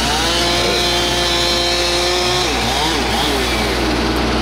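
Whining chainsaw run by a certified logger felling timber, loud and sustained with pitch shifting up and down as the engine revs and bogs into the wood, no talk over it.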